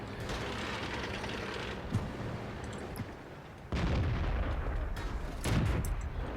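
Tank cannon fire and shell impacts from the World of Tanks video game, several booming bursts over a steady rumbling engine bed at moderate volume, with no speech.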